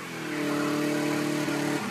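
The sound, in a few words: luxury cars drifting and burning tires in a tunnel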